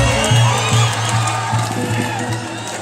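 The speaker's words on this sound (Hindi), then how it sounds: "एक बार जोरदार ताली हमारे बीच" Crowd at a live Bhojpuri stage show with Khesari Lal Yadav and Anjana Singh cheering and whooping loudly and continuously, a dense roar of voices with a sustained low hum underneath, steady throughout.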